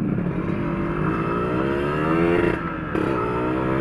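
A Yamaha RXZ motorcycle with a loud racing exhaust revs steadily up close, its pitch climbing with two brief throttle drops.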